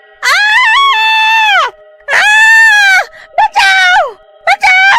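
A witch screaming as hot frying oil splashes onto her body, voiced in a horror story: long, loud, wavering wailing cries in several bursts, the last ones shorter and choppier, with no other talk.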